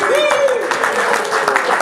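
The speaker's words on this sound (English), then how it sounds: "give him a big round of applause" A crowd applauds in a steady, dense wash of clapping that lasts throughout, with a voice rising briefly over it at the start.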